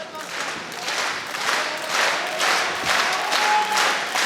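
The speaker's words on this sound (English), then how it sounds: "And instantly the crowd getting behind this" A crowd at an OKTAGON 28 MMA fight in Bratislava applauding and cheering in a dense, steady roar of clapping with swelling waves, while a commentator speaks over it.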